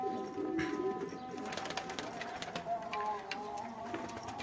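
Young pigeons coo softly in a coop, with low, faint calls under someone speaking Turkish nearby and some light clicks and rustles.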